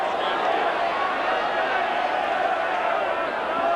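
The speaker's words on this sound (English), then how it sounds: "The crowd have enjoyed this great display." Dense stadium crowd murmur and cheering at a rugby league Test match between Australia and Great Britain, a steady broad roar filling the background under commentary.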